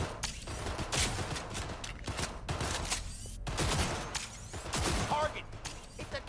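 Gunfire from a weak-feeling gun in Cyberpunk 2077, rapid sharp shots crackling in bursts over several seconds, fairly close, with a voice talking faintly underneath.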